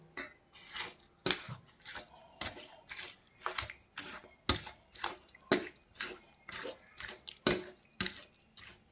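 Watermelon chunks mashed by hand with fresh lemon juice, giving a series of wet, squelching presses in a steady rhythm, close and fairly soft with no talking.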